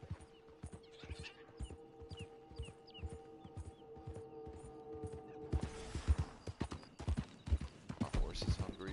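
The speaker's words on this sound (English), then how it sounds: "My horse is hungry." Horse hooves clip-clop steadily in the Red Dead Online video game, growing louder and busier partway through, with a creak and mechanical clatter and a person talking over them.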